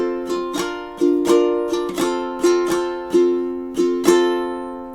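Ukulele strumming a short two-bar passage from a song leading into the chorus, with clear, evenly spaced chord strokes that ring and decay between hits, close and alone.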